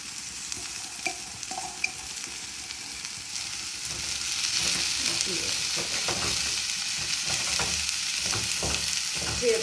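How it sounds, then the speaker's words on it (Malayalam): Chopped spinach frying with onions in a pan, a soft steady sizzle with occasional scraping stirs, growing slightly louder as it cooks, close and without voices. "ഇതിലേക്ക് നമുക്ക് അരിഞ്ഞ് വെച്ചിരിക്കുന്ന ചീര ഇട്ട് കൊടുക്കാം."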